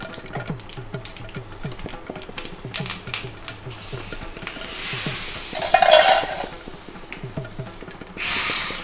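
Mustard seeds, cumin, asafoetida and curry leaves temper in hot ghee for tomato rasam, a light crackle and sputter under rhythmic stirring and clinks of a metal pan, with a brief louder hiss toward the end.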